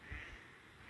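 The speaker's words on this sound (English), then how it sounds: "big drake mallard" A big mallard drake on a pond affected by beaver damage in Dublin, New Hampshire gives a single short, faint quack under a soft outdoor hiss.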